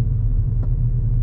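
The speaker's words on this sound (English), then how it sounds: "Listen to the engine." Car engine idling low and steady during a beginner driving lesson, a continuous near rumble with a brief faint click midway.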